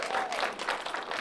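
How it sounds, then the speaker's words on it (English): A short burst of audience applause after a card trick at a public library magic show, dense and steady throughout with a voice briefly over it. "Give Barnaby a big round of applause!"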